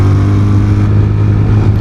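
A ZONTES 368G scooter ridden in S mode gives a loud, steady engine drone with a constant low hum and no break.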